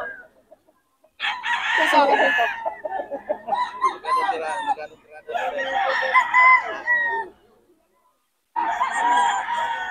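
Rooster crowing and chickens clucking among inexpensive fowl, several loud bursts of crowing and clucking close by separated by short pauses, with a voice talking in between.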